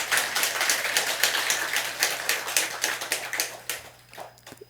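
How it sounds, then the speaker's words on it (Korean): Applause from a temple congregation at a Buddhist dharma service, a dense run of hand clapping that rises to a peak and then thins into scattered claps near the end. "박수 한번 쳐주세요"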